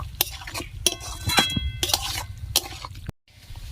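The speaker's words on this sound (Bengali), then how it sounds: "এবার সবগুলোকে ভালো করে চিকেনের সঙ্গে কষিয়ে নিব" Chicken fries with salt, turmeric, coriander powder and chilli paste while a utensil scrapes and clinks against the pan in irregular strokes over a soft sizzle, and the sound briefly drops out near the end.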